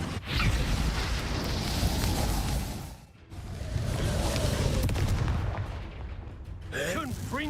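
Magic blasts from a Confringo fire spell cast in a wizarding-school video game, loud booming bursts with crackling fiery noise that fill the scene, pausing briefly midway before more blasts.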